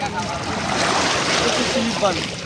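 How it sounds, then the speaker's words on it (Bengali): A steady, loud wash of Arabian Sea waves and surf roars continuously at close range on the shore, with no clear break. "প্রচুর ঢেউ,"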